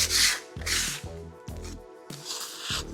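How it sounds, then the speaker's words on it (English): Sandpaper worked over a filled wall before painting makes rhythmic, close scratchy strokes, about six back-and-forth passes with brief gaps between them. "I use a little palette knife just to take them off initially and then just sand on there"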